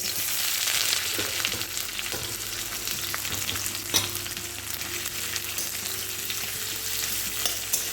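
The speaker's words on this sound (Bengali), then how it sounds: "প্রথমে আমি তেলের মধ্যে পেঁয়াজগুলো দিয়ে দেবো" Sliced onions fry in hot oil with dry red chillies and crushed garlic nearby, a steady dense sizzle running throughout with occasional louder crackles and light stirring knocks, close and continuous with no talking.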